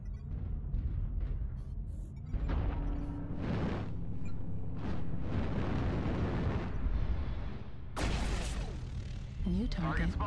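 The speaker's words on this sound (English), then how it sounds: "Artillery strike activated." Artillery strike in MechWarrior Online, a series of heavy, rumbling explosions building over several seconds with deep booming impacts and a sharp final blast, mixed with mechanical game noise and a voice speaking over it.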